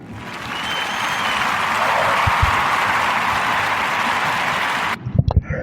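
Sustained applause from a podcast audience honoring Johnny Brown, a steady dense clapping wash lasting several seconds before fading out with a few scattered final claps.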